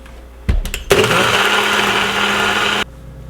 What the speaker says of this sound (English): and then pour it on the blender.